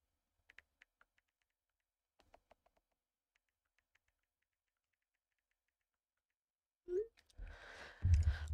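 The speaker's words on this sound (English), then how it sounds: "there's something about Apple iPhones typing sounds that I really like" An Apple iPhone touchscreen keyboard gives sparse, faint ticks of typing in small clusters against near silence, then a voice and louder movement take over at the end.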